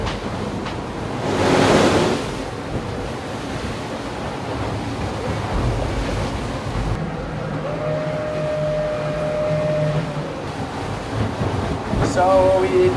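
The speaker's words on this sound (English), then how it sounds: "I think the wind is a bit less now." Wind and breaking waves rush steadily around a racing sailboat at sea during an ocean race, with a louder surge of surf early on and a faint tonal whine midway, all sustained without a pause.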